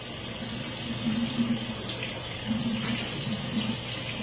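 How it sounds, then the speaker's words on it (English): Tap water running into a kitchen sink while utensils are rinsed, a steady close gush with soft clinks and shifts in the flow as items pass under the stream. "I want to rinse these utensils off for round 2 so they be ready to go."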